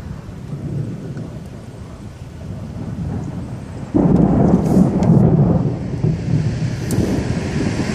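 A thunderstorm over Erskine Park brings steady rain and wind, then a loud rolling thunderclap that begins suddenly midway and rumbles on for several seconds before easing.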